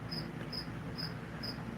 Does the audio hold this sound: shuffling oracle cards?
no